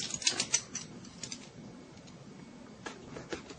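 Factory seal on a computer processor box being cut open, a few close sharp clicks and ticks followed by quieter scraping and snipping, with no talk.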